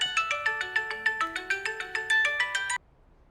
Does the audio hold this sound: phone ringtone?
yes